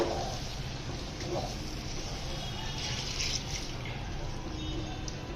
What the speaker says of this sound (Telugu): కప్పు నీళ్లు పోసుకున్నాం